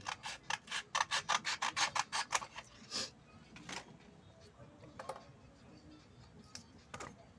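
Rapid rhythmic rasping of sandpaper scrubbing against jade stone while shaping a ring, a quick burst of strokes followed by a few scattered scrapes, close up.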